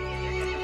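A horse in the video game Resident Evil Village gives one short, loud, shrill neigh that holds briefly and fades, with no talk over it.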